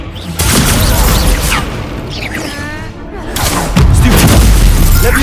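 Heavy booming impacts from the Descendo slam spell in Hogwarts Legacy on PS5, loud thuds and crashes in a busy duel, with shouted voices over the top.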